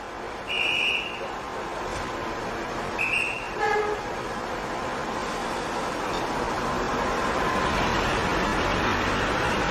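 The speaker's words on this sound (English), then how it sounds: "The train started suddenly." A train departs in a story sound effect. Two short horn toots sound over a low, steady rumble of wheels, which grows louder and busier as it pulls away.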